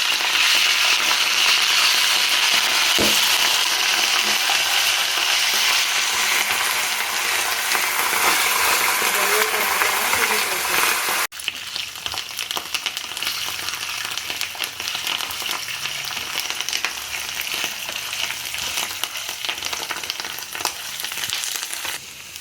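Green chillies and curry leaves crackle in hot oil, a loud, continuous close sizzle that shifts and settles slightly partway through.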